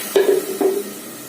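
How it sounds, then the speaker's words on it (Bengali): Water poured into a pot of cooking cholar dal (Bengal gram lentils) gives two short, bright splashing sizzles in quick succession, fading into a quiet simmer with no speech. "এবার ছোলার ডালের মধ্যে আমরা জল মিশিয়ে দেব, পরিমাণ মতো"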